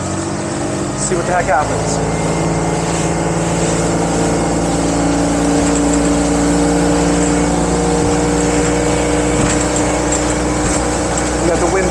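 A Mercruiser MPI boat engine throttles up while the boat is under way, a loud continuous engine drone with wind rush filling the whole stretch and someone talking briefly over it.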